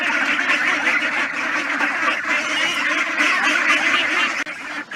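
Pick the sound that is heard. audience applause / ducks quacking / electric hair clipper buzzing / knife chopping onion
ducks quacking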